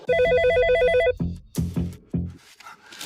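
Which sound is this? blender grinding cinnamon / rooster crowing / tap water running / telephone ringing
telephone ringing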